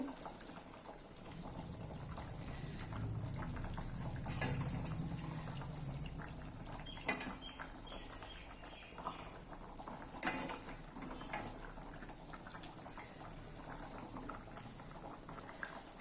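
Bengali-style rupchanda fish curry broth with potatoes simmers in a pot as the fish is added, a faint steady bubbling hiss with a few soft clinks and splashes.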